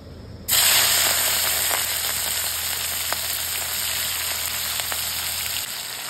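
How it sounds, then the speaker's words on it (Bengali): Prawns frying in hot oil in a wok (kadai), a loud, steady sizzle that bursts in abruptly as the prawns hit the oil and then crackles on continuously with faint pops. "তো আমি এবার চিংড়ি মাছটাকে ভেজে নেব।"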